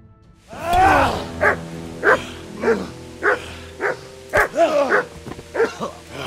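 A dog barks repeatedly in the medieval video game Kingdom Come: Deliverance, starting with a long howling yelp and then a steady run of loud, close barks, heard alone without talk.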